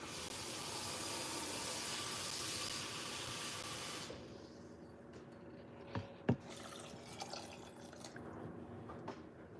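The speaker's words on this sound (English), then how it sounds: "I'm gonna fill this all the way up with as much liquid as she needs in here till I get to the max line" Liquid pours steadily into an Instant Pot of black-eyed peas for about four seconds, a close, continuous rushing stream, then stops and gives way to quieter drips, a sharp clink and light handling sounds.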